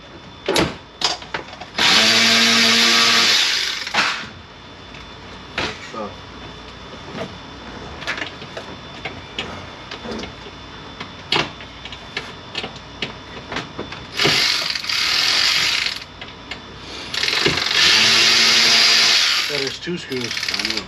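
A power ratchet tool removes screws from the side panel of a VW MK5 GTI, loud whirring bursts several seconds long separated by clicks and handling noise, repeated three times, with occasional talk.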